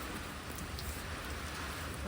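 Steady rain falls outdoors near a pigeon loft, a soft, even hiss of drops on surfaces with no pauses, faint and constant throughout.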